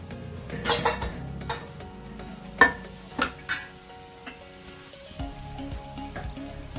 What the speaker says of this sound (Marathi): अशा प्रकारे आपण सगळ्या मासवड्या तळून घ्यायच्या